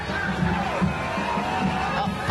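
A large crowd at a violent protest at UC Berkeley makes a steady, close hubbub of many voices, with scattered shouts and whoops rising over the continuous babble.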